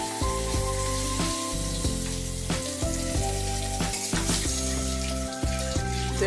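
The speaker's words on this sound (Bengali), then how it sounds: "ছোট 2 চামচ 5 ফোড়ন দিলাম, তার সাথে ধোয়া তেজপাতা" Panch phoron with bay leaves and dried chillies dropped into hot oil in a kadai, crackling and sizzling steadily with sharp pops scattered throughout, close and alone with no voices.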